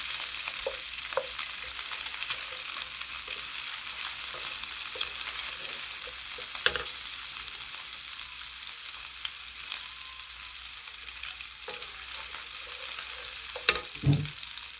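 Onion sautés in a pan at the start of cooking a crab omelette, with a constant close sizzle broken by a few soft knocks of stirring.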